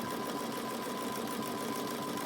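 A sewing machine runs in a fast, steady whir, stitching across the elastic on a fabric face mask made from a template, close and fairly quiet, with no talking.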